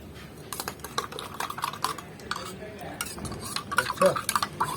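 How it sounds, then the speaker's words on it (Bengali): A spoon stirs chocolate Horlicks powder into a little water in a cup, making quick irregular scraping and clinking taps, close by, with no talking. "এবার আমরা একটা হরলিক্স একটু জলে গুলে দেখিয়ে দিই এটা হচ্ছে চকলেট হরলিক্স"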